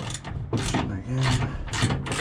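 Ratchet loosening a bolt on a Toyota MR2 SW20 turbo lid, a few short bursts of rapid clicking separated by pauses, close and fairly quiet.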